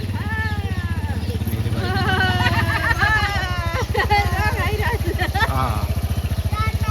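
A motorcycle engine runs steadily up close with a low, even throbbing drone, while people talk over it the whole time.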